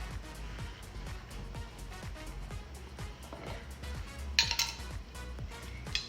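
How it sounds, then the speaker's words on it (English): A spoon clinks and scrapes inside a glass jar of capers while potato salad is made, a series of small sharp clinks repeating at a steady pace, with a louder burst of clatter near the end. "So we're going to dig into our caper jar."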